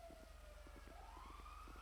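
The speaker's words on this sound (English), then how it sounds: "I can hear the sirens." Police sirens wailing in GTA V NoPixel roleplay, a rising and falling tone heard at a distance and fairly faint over steady low game engine rumble and rhythmic thumps, with no talk.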